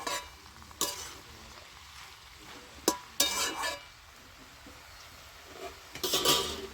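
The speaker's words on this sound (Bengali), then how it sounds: "এবার আমি একটু ভালো করে নাড়াচাড়া করে ঢাকনা দিয়ে দেবো" Potato and greens curry is stirred in a frying pan, with a low steady sizzle punctuated by several sharp scraping strokes and clinks of the spoon against the metal, close and without talk.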